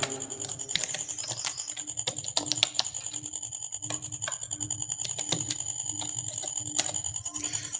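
Keys clatter in a quick, uneven run on a computer keyboard as an address is entered into an Excel VBA data entry form, close and steady with brief pauses and no talk.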